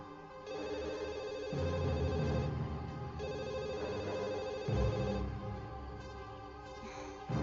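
A telephone rings repeatedly with no one picking up, a steady electronic ring pattern repeating over several seconds, fairly loud and alone with no voices.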